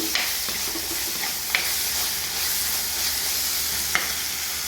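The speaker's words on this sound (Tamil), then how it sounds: "தக்காளி வதங்குறதுக்கு கொஞ்சம் மஞ்சத்தூள் போடுங்க தக்காளி நல்லா வதங்கிடுச்சு" Tomatoes with turmeric powder sautéing in a pan for a tuna fish curry, a steady close sizzle with a few soft clicks of stirring, with no voices.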